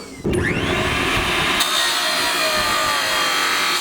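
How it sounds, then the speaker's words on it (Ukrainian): A power saw or grinder bites into steel rebar being cut for staples at a forge, starting abruptly and then whining loud and continuous to the end. "Жінка ріже арматуру для майбутніх скоб"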